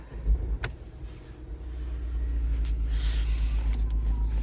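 The 2.2 Skyactiv-D diesel engine of a Mazda CX-5 cranks and starts with a short burst, then settles into a steady, low, pulsing idle heard from inside the cabin.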